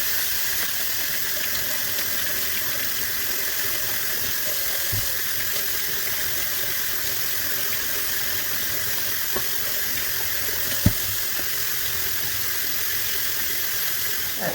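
Potatoes being washed in a kitchen sink under steadily running water, a continuous hiss with a few faint knocks from the potatoes, no one speaking.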